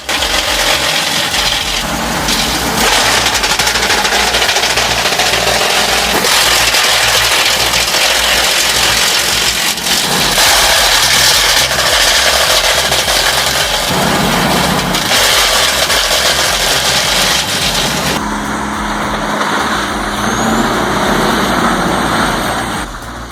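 A Diamond Z6000 wood chipper's engine runs loud and steady throughout, a dense continuous roar with shifting mechanical texture and a brief change in tone near the end.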